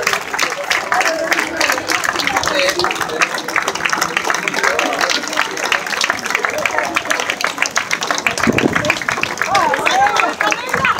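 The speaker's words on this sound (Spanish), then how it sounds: "El aplauso." Spectators at an open-water swimming race clap continuously, a dense, steady patter of many hands mixed with crowd voices and chatter throughout.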